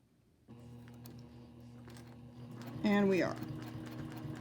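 A sewing machine stitching a quilt seam for a heart quilt, a low steady mechanical hum starting after a brief pause, with a short voice breaking in near the end.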